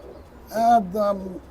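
A black teddy pigeon gives a single close, clear coo, a short rising then falling call about a second long against a quiet background.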